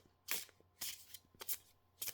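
Tarot cards are shuffled in several short, quiet bursts of riffling. The riffles come at a quick, uneven rhythm close by, and no one speaks.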